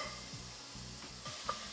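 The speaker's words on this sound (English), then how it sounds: "Give that a bit of a stir." Lamb curry meat with cinnamon sticks and star anise stirred in a pot, giving a soft scraping, shuffling sound over a low sizzle, with a few spoon strokes and a brief clink near the end.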